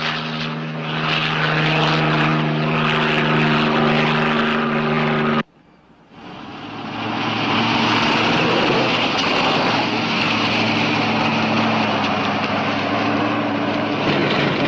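A police helicopter flies over a highway, its engine and rotor droning loudly and steadily. A brief cut breaks the sound before it returns just as strong and continuous.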